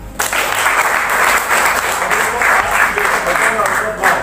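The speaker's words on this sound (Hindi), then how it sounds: "उसके लिए जोरदार ताली।" A seated audience at a team gathering in India bursts into loud, dense applause that holds steady for a few seconds, with clapping filling the whole stretch.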